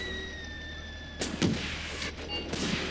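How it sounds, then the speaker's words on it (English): Mortar fire in the war game Graviteam Tactics: Mius Front, a few dull booming shots with crackling impacts, fairly loud over steady battlefield ambience and faint tonal hum. "You have trained for this with your mortars. Fire."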